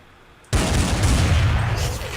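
Gunfire in Counter-Strike 1.6 erupts suddenly after a quiet moment and keeps going as a loud, dense burst of shots that lasts about two seconds.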